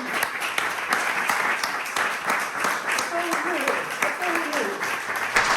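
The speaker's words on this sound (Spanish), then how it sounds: "vamos a empezar dándole un aplauso a estos conferenciantes" Sustained applause from a conference audience greeting the speakers at a talk on bandits, dense steady clapping filling the room from start to finish with some voices mixed in.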